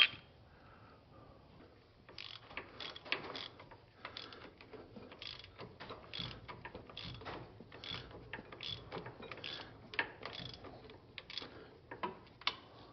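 Bolts are tightened with a ratchet while a John Deere 4020 tractor is split for clutch replacement, producing faint, rapid metallic clicking in repeated bursts against a quiet shop background.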